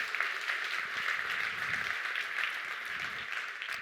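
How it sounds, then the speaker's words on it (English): Steady applause from a seminar audience at a brain-training talk, many hands clapping evenly at moderate loudness with no speech over it. "Give yourselves a round of applause."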